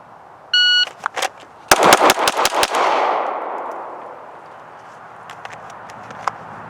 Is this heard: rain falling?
no